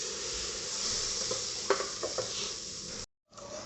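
Chicken powder and soy sauce going into a hot pan for homemade chicken stock cubes, a steady close sizzle with a few light stirring clinks and scrapes before a short cut to silence.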